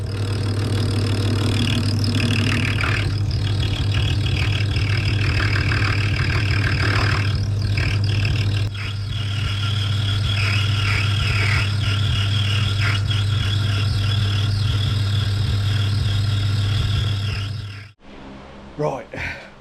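A lathe turns down a brass bolt for a Norton bobber motorcycle project, giving a steady loud motor hum with a cutting rasp layered on top, a brief dip partway, then the machine stops near the end.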